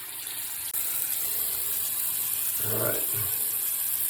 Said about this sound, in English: we are pushing water through that sensor valve that we installed under the sink